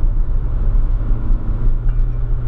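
A car accelerating at a track day, a steady loud low engine drone rumbling throughout with no voices.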